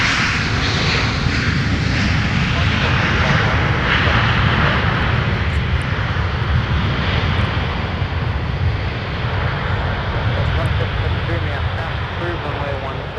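Delta Airbus A330-200, a former Northwest Airlines jet, at Minneapolis–Saint Paul airport: a steady, loud broadband engine roar that holds throughout, with talk over it.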